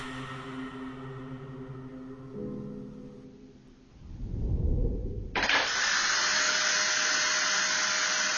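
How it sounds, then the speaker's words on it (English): An electric duster topples over on a floor and powers on. A low, rising rumble builds, then the motor cuts in with a sudden loud, steady high whir that continues to the end, with no one speaking. "An electric duster had been resting untouched on the floor throughout the day. Yet with no warning, it suddenly toppled over and powered on"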